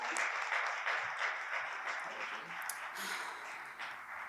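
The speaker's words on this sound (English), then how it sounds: "Round of applause." Sustained audience applause at a poetry event as a poet walks to the stage, a dense steady patter of many hands clapping that holds at an even level throughout, with faint crowd noise beneath.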